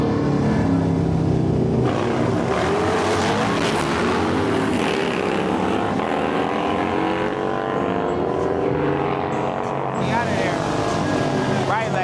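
Street motorcycles race on a Los Angeles street, their engines droning loud and continuous as they accelerate past, while people talk excitedly over the noise.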